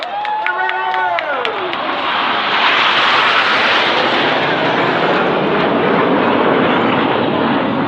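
Royal Air Force Red Arrows aerobatic jets roaring over the Swansea Air Show, a loud, sustained jet-engine rush building and holding, with a brief descending whine near the start.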